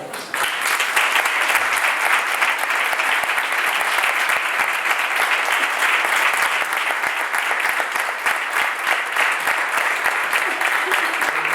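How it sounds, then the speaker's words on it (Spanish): Sustained, loud audience applause at a poetry book presentation, dense clapping starting just after the opening and holding steady for over ten seconds. "Si vais a aplaudir, hacedlo por él, por favor"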